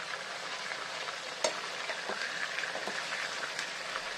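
Chicken pieces sizzle steadily in a hot pan while being turned one by one, with a sharp clack of a utensil early on and faint scraping taps throughout. There is no talking.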